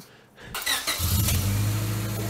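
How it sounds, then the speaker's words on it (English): A broken-down Honda Civic's engine catches and runs rough, a low uneven idle rumble after a brief start, close by, with no talking. "Nope, now it's misfiring."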